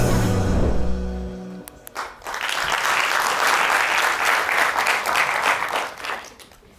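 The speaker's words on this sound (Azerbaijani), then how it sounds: "Alqışlarla səhnəciyimizə başlayırıq əziz dostlar" Loud, sustained audience applause at a comedy sketch show, a dense steady wash of many hands that swells after a brief opening of talk and holds to the end.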